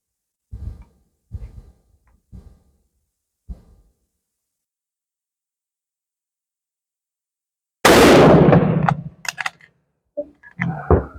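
A few faint handling clicks, then one loud, sharp crack from an Enfield No5 Mk1 rifle, a well-worn, heavily used gun, trailing into scattered metallic clatter.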